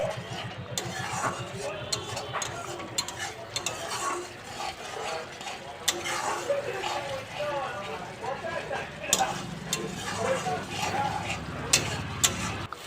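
Ground cumin and salt stirred and fried into masala in a pan for a duck egg omelette curry, with scraping and low sizzling running steadily under a voice speaking throughout.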